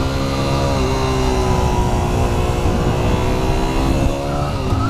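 Toyota Prius driving past, a steady close road roar with engine and tire drone holding loud and continuous throughout, no voices.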